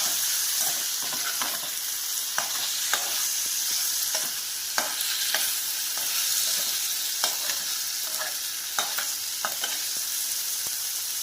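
Orange pieces being stirred into a sizzling stuffing mixture in a pan for a chapati roll, with a steady hiss broken by regular scraping knocks of the spoon, and no talking.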